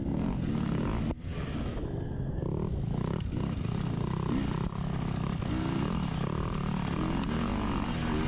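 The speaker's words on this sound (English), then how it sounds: "I'm just kind of giving her some throttle and hoping we can make a move on Brenton here." A dirt bike engine during a cross-country race at Carolina XC, loud and continuous with rising and falling throttle revs, close to the rider, with rough rumbling texture throughout.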